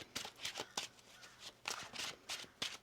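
Tarot cards being shuffled by hand, a series of quick crisp riffling bursts in uneven rhythm, close and fairly soft.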